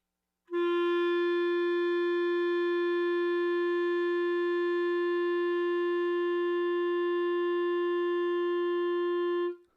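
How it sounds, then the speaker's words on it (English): A single steady note is held on a wind instrument for about nine seconds, pure and unwavering with clear overtones, starting cleanly and cutting off at the end, played alone without talking. "do a steady stream of air that gives me a steady note and see how long I can hold it"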